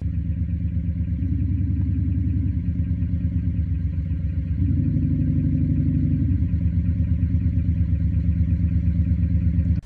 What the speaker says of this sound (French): Vous allez pouvoir choisir toute une palette de sons au ralenti.